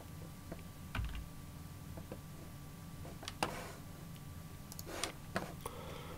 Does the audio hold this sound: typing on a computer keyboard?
yes